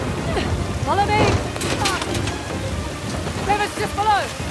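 Heavy rain and rolling thunder in the video game Uncharted: The Lost Legacy, a loud steady downpour with thunder swelling midway, while voices speak intermittently over the storm.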